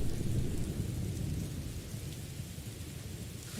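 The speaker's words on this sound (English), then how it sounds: "By the lightning, but the lightning is scripted to not kill, just to hurt a lot, but never kill you" Thunder and heavy rain from a lightning strike in the Morrowind video game: a low continuous rumble under steady hissing rain, loud and enveloping, with no talking.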